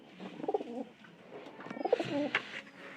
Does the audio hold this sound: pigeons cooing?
yes